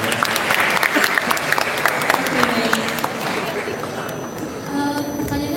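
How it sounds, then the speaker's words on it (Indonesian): An audience claps in a burst of applause at a question-and-answer session with high school students, with the clapping fading slightly toward the end and a voice speaking faintly alongside. "Tepuk tangan buat kalian."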